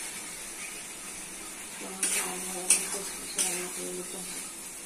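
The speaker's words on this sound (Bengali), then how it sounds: "আলু কষা হয়ে গেছে, দিচ্ছি টমেটো কুচি।" Chopped tomato goes into fried potatoes with spices being stir-fried in a pan, giving a quiet steady sizzle with three clinking scrapes of a utensil against the pan, faint and close.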